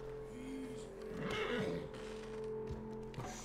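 A horse in Red Dead Redemption 2 gives one drawn-out whinny near the middle of the clip, rising and falling over a low steady background hum, with nobody speaking.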